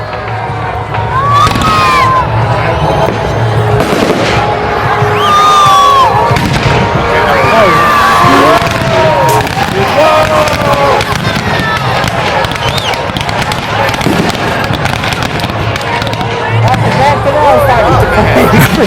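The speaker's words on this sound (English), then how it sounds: "So you call these fireworks?" Fireworks burst loudly at an outdoor show, with repeated booms and crackles mixed into dense crowd noise, cheering and nearby talking throughout.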